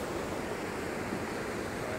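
A large river in Dingalan flowing down toward the sea makes a steady, dense rushing roar that stays even and constant throughout, with no voices.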